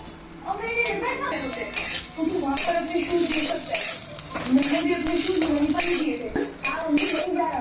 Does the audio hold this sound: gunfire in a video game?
no